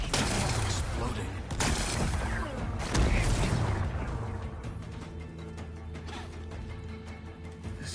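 Rocks are blasted apart in a video game with a series of loud explosive bursts and crumbling debris, followed by a rumbling, mechanical tail as voices speak over the action.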